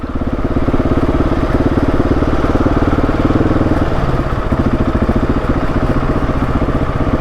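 A trail motorcycle engine runs steadily close up on a Trans Euro Trail section in France, a loud, even, rapid-firing drone that continues throughout with no talk.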